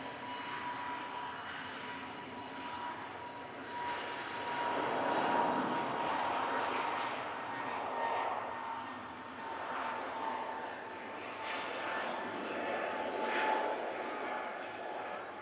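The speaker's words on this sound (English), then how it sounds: "And here is the EasyJet just lining up" An EasyJet airliner lines up for takeoff toward Tenerife at Manchester Airport in thick fog, its engines giving a steady mid-distance whine and roar that swells slightly, with someone talking over it.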